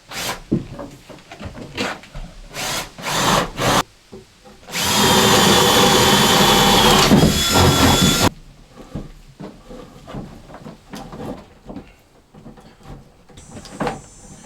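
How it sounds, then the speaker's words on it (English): A power drill whirs loudly and steadily for about three seconds, with clunks and tool handling before and after. "So let's start drilling some holes"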